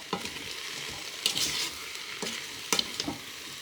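Beef, onions and a spoonful of brown sugar stirred in a pot for a Flemish carbonade, with soft scraping strokes and a low sizzle, a few louder spoon sweeps standing out over steady frying.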